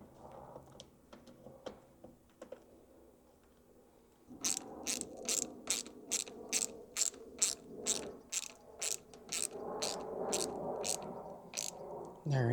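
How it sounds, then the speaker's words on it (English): A ratchet wrench clicks in quick, regular bursts while tightening the bracket bolts of a K Speaker K2 motorcycle speaker. It starts after a quiet stretch and runs close and fairly loud to the end, with no talk over it. "Let me go ahead and start tightening these up. Again, you can use an H4 for these part of the brackets."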